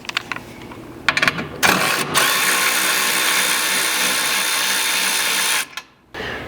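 A 12mm socket wrench on a 4th Gen Tacoma rear bumper, with a few sharp clicks and then a long, loud, steady ratcheting run that stops near the end, close to the mic.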